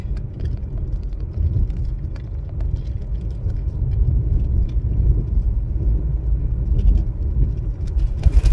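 Car engine and tyre rumble from inside a vehicle moving through traffic behind a bus and a stopping car, a steady loud low drone with a few faint knocks near the end.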